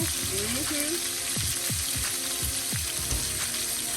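Steady crackling sizzle of French toast sausage dogs and bacon frying in a pan, with scattered clicks and scrapes from cooking utensils throughout.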